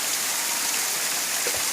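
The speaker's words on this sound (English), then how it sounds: "As you can see, it's amazing waterfall." Waterfall at Pachmarhi, a steady broadband rush of falling water like heavy rain, constant and close for a brief moment with no voices.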